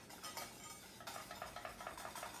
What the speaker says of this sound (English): let's just whisk it pretty much all the time